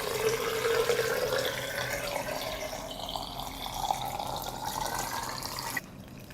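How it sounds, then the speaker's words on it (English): Water poured into a glass jar packed with fresh tomatoes and lemon juice, a steady splashing fill that gradually deepens in tone before stopping abruptly near the end. "I pour water to cover the tomatoes."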